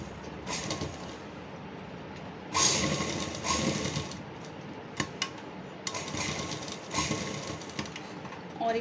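A sewing machine stitches a child's kurta in quiet bursts of mechanical whirring, with two longer runs and a few sharp clicks between them.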